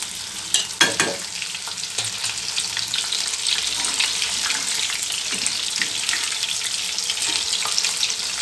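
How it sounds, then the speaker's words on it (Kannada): Garlic kebabs fry on a medium flame with a steady, close sizzle throughout, with a few sharper crackles and clinks of a utensil near the start. "ಮೀಡಿಯಮ್ ಫ್ಲೇಮ್ ಇಟ್ಕೊಂಡು ಇದನ್ನು ಫ್ರೈ ಮಾಡ್ಕೋಬೇಕು"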